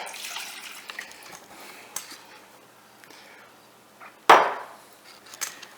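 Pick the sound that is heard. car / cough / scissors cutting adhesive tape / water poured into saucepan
water poured into saucepan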